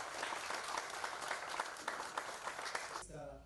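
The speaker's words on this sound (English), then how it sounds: "We have a round of applause." Applause from an audience at a youth day event in Fiji, a dense steady patter of many hands lasting about three seconds before cutting off abruptly.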